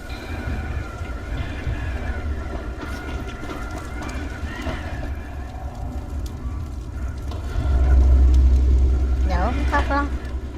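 Hanging train running on its cable line in the zombie parkour game Dying Light, a sustained rumbling roll that swells louder near the end, with game sounds and a voice speaking over it.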